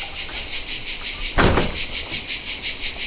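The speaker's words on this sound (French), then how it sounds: "il y a 1 million de cigales dans les arbres qui sont juste là" Cicadas sing in nearby trees in a loud, steady pulsing drone throughout, with a brief thump of handling noise in the middle and no talking.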